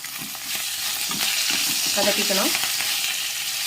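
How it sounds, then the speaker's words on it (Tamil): Thuthuvalai (climbing brinjal) leaves are stirred and sautéed in a hot pan while making thuthuvalai thuvaiyal, a steady close sizzle with scraping stirs and a few brief clinks, no voices. "இலையை போட்டு அதையும் நல்லா வதக்கிக்கணும்"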